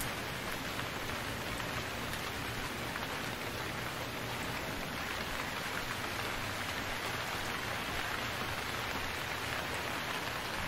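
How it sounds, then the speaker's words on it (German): Steady rain in the survival video game Stranded Deep, a constant even hiss of falling drops that holds at the same level throughout with no voices. "Es regnet natürlich."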